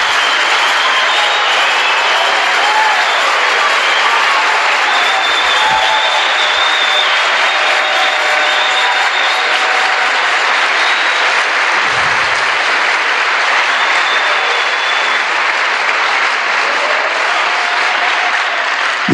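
Sustained applause from a church congregation during a sermon on Christ the Redeemer, dense and steady for the full stretch, loud and close with no talking over it.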